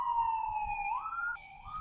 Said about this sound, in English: I'm sorry about the siren in the background.